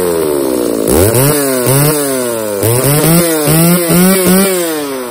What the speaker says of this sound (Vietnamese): Vua của các dòng máy cưa Shirawa 350 nha anh em.